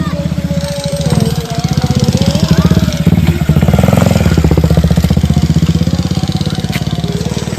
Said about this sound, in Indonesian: Ada lagi motor.